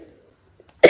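A single sharp cough bursts out at the very end after near silence, close and loud, preceded by a faint murmur.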